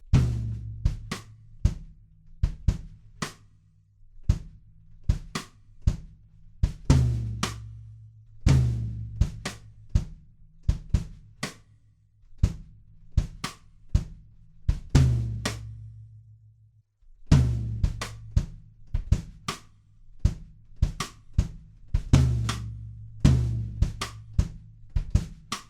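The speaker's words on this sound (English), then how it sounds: "so to emulate that I'm going to play a cross stick on the snare drum" A drum kit plays a steady groove of sharp snare cross-stick clicks over deep kick drum thumps and muffled tom hits, close and dry, with brief pauses between phrases.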